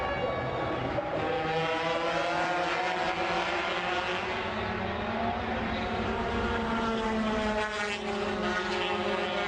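Honda and Aprilia MotoGP motorcycles scream down the straight at the Indonesia round, a continuous loud, high-revving engine roar with rising and shifting pitch as the close-running bikes pass, no talk over it.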